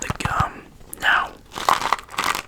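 A Trident gum packet is handled close to the microphone in a quiet ASMR-style setting, making several short bursts of crisp crinkling and rustling separated by brief pauses.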